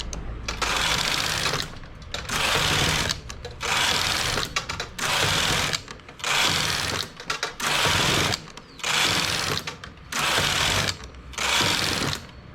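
A domestic knitting machine works rows of English rib, its carriage swept back and forth in a regular rhythm of loud mechanical rattling passes, each about a second long with short pauses between, close and without voices.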